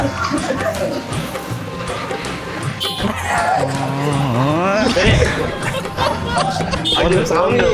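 A person imitates a dog with playful barks and yips in a comedic prank, loud and close, mixed with other voices chattering and laughing around them.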